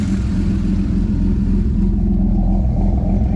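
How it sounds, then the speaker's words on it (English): A car engine runs steadily with a deep, throaty exhaust rumble, close by and loud, with no talking. "The exhaust sounds great."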